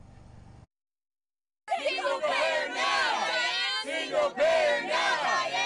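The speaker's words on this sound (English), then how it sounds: "A small but energetic crowd of protesters, including several Bernie Sanders Democrats, shouted at Senator Dianne Feinstein Tuesday night" Protesters, including Bernie Sanders Democrats, shout at Senator Dianne Feinstein outside a Beverly Hills fundraiser at night; a loud, dense crowd of overlapping yelling voices begins abruptly after a brief silence and continues steadily.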